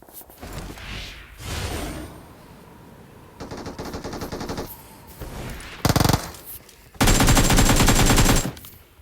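Video game gunfire in a ranked classic match, heard as bursts of rapid automatic fire and single shots between quieter stretches, ending in a long loud volley, with no talk over it.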